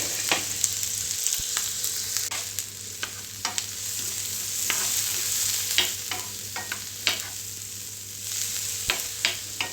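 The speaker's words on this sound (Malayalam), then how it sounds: "സവോള ചെറുതായി അരിഞ്ഞിട്ട് ഒന്ന് എണ്ണയിലിട്ട് നന്നായിട്ട് മൂപ്പിച്ചെടുക്കണം." Finely chopped onion fries in oil in a pan with a continuous sizzle and frequent sharp scraping clicks of stirring, close and steady throughout, with no voices.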